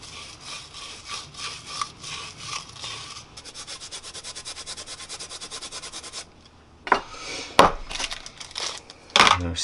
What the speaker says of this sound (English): I'm going to try to clean that out, but we'll see what happens